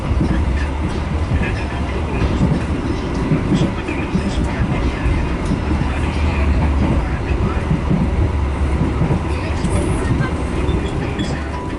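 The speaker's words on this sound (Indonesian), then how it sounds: "Beberapa saat lagi kereta api Do akan tiba di stasiun" Dhoho passenger train running on rails near Peterongan station in East Java, a steady continuous rumble of wheels and carriage noise throughout, with a faint voice in the background.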